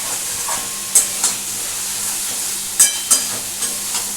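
Spice masala sautéed in a pan with fish roe for a Bengali fish roe curry. A soft steady sizzle runs under a few sharp spatula scrapes and clinks, and no one speaks.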